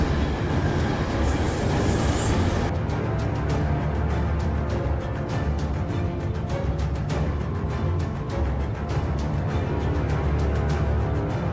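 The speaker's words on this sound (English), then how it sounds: "the subway was approaching, clacking on the tracks" Subway train approaching and clacking over the tracks, a loud continuous rumble with steady rhythmic clicks of wheels on rail joints and a brief high squeal near the start, with no voices.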